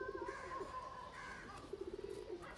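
Dobaj pigeons coo softly in a series of low, rolling calls, one burst at the start and another near the end, with a steady faint background between them.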